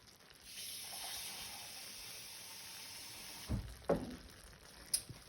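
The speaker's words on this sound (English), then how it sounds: "I'm going to end up adding more water to this." Water added to a sticky chicken curry base cooking in a pot, heard as a steady, soft rushing pour lasting several seconds, followed by a few light clanks near the end.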